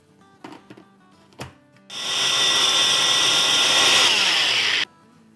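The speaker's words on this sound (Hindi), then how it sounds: "ग्राइंडर में जब हम ग्राइंड करते हैं दही को तो वो पतला हो जाता है" An electric kitchen grinder whirs loudly and steadily for about three seconds as it blends a yogurt marinade for tawa chicken, after a few light knocks, then stops abruptly.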